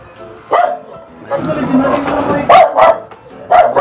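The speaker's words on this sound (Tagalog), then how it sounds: "maingay po yung aso ni Arjun" A dog barks in short, sharp bursts, a few single yaps spread out, with people talking nearby between the barks.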